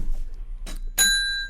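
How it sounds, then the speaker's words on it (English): A small hand bell found on the floor, struck once with a bright, clear ding that rings out and fades slowly, preceded by a couple of faint handling knocks. "Where did this bell come from?"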